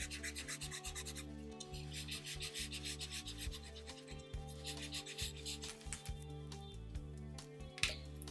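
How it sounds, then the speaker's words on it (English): Eraser rubbing back and forth over card to remove pencil guidelines, a steady close-up scrubbing rasp with rhythmic strokes throughout, fairly quiet, no talking. "go back with a white eraser and erase your guidelines when you're finished"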